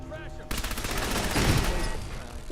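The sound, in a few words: gunfire in a video game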